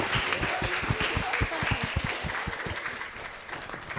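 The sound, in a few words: audience applause for the panelists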